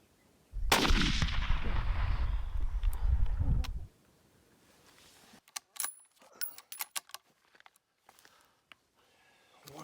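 A single sharp gunshot is fired at a wild hog outdoors, loud and close, with a long ringing decay. Scattered clicks and rustling follow afterward.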